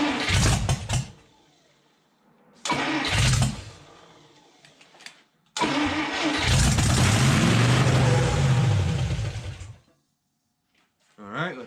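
A Tri Power 241 Red Ram Hemi fires up and runs at a fast, too-high idle, loud and close. Short bursts come first, then a long steady run and a sudden cutoff, with a voice speaking over parts of it.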